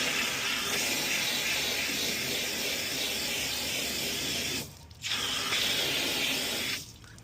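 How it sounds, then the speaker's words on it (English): Steady hissing water spray rinsing road paint splatter off a car, close and loud, pausing briefly twice as the stream is cut off and resumed. "Spray it off,"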